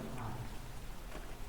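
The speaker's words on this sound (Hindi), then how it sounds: "बारिश हो रही है।" Steady rain falls throughout, a dense continuous patter on a surface with no voices over it.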